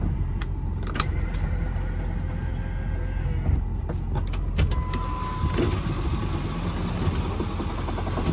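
Power telescoping side mirrors on a 2008 Ford F250 4WD Lariat Powerstroke diesel retract with an electric motor whir over the truck's steady idling rumble, with scattered clicks.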